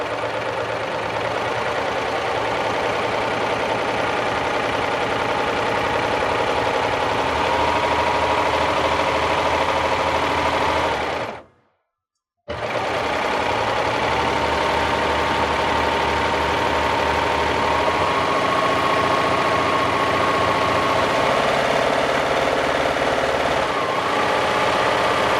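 A serger sewing machine runs continuously as it stitches down the length of wire-edged ribbon, a loud, steady mechanical whir with one brief pause partway through.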